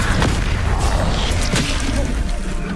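The Incendio fire spell is cast during a Hogwarts Legacy duel, a dense, roaring burst of fiery noise with a couple of sharp cracks inside it, loud and close.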